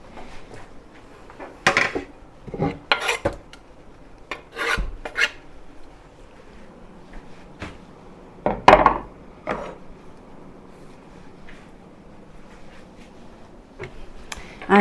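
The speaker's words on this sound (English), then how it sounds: "I'm just going to chop a little bit of parsley here for the other salad" A knife chopping parsley on a cutting board for a beetroot salad: scattered sharp, raspy strokes in irregular bursts, close and fairly loud, with quiet gaps between them and no talking.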